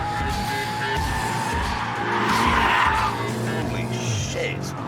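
An all-wheel-drive BMW skids with its tyres squealing, a loud sustained screech over the engine's roar, swelling in the middle before easing off.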